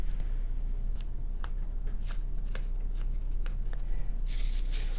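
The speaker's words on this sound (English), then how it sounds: "I'm going to take a piece of tape, I'm going to run it just like this" Sticky tape pulled, run along and folded back on a small plastic FW-190 model kit, giving sharp crackly rips and papery rustles over a steady low hum, close up with no talk.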